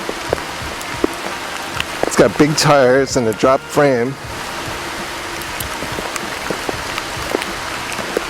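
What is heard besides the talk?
rain falling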